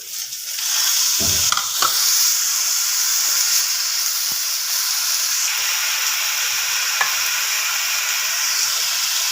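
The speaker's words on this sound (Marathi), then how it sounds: "थोडा कांदा लाल झाला आपण टमाट टाकून घ्या" Onions fry in a pan with a bright, steady hiss as tomatoes go in for paneer matar. A thud and a few sharp clinks of stirring come early, then the sizzle continues evenly and alone.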